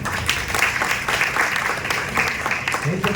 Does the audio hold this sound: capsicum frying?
no